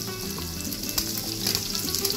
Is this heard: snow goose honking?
no